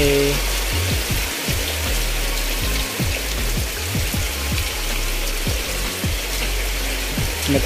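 Dense, continuous patter of rain falling on a hard surface, with repeated dripping and splashing close by and no talking.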